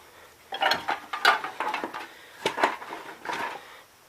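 Sockets and bolts clatter and ratchet during work on a 1958 Gravely tractor engine, a run of close, sharp metallic clicks and rattles in uneven bursts with no talking.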